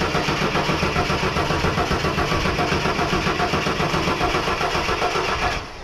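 A 1983 Ford Falcon XE engine runs loud and steady throughout, a continuous close mechanical drone with rhythmic pulsing that drops off slightly at the very end.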